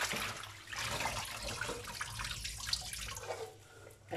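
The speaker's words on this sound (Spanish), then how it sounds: "aquí va tirando el agua sin ningún problema" Water from rinsed parsley drains through a strainer into a container below, making a soft steady trickle and splash that stays faint and continuous.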